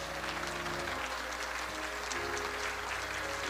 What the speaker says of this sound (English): Vice President Joe Biden walked in to pay his respects to applause and then to a standing ovation